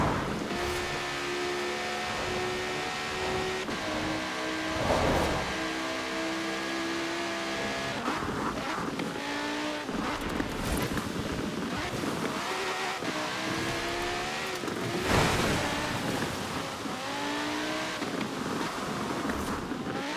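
A Lamborghini Sesto Elemento in Forza Horizon 4 accelerates hard, its engine climbing in pitch through repeated gear changes with short dips between shifts, loud and sustained with wind rush.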